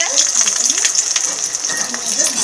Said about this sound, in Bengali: রসুন আর পেঁয়াজটাকে এবার একসাথেই ভেজে নেব।